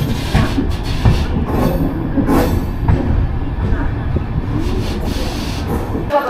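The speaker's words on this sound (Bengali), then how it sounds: "আর ঠিক 1 মিনিট বাদেই কাশী স্টেশন ছাড়বে আমাদের ট্রেন" The 13009 Doon Express with new LHB coaches pulls out of Kashi station, a loud continuous rumble of rolling wheels and rail noise with faint squeals and clatter.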